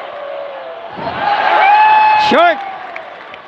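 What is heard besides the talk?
crowd shouting during a basketball free throw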